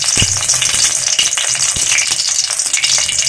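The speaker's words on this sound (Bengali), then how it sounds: "এখন পুরগুলো ভেজে নিতে হবে।" Samosa (singara) filling frying in hot oil in a wok, with onions going in: a loud, steady, crackling sizzle with a few soft knocks underneath and no talking.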